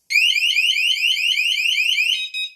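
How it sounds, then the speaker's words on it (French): A camper van's intrusion alarm sounds a loud, rapid, repeating electronic warble, steady and close, then stutters into a few broken beeps before cutting off. "On arme l'alarme. Voilà, elle est armée."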